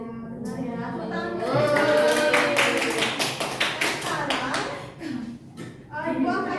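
A class of children clapping hands, a burst of rhythmic claps mixed with children's voices and chatter in a classroom.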